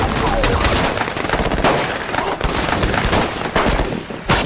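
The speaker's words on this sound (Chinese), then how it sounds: "枪声一响啊" Gunfire as police raid a drug factory in a TV drama, loud rapid bursts of automatic shots with dense crackling and echo throughout, voices faintly under the shooting.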